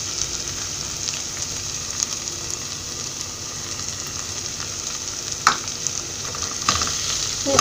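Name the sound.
stirring tomato masala with turmeric in a pan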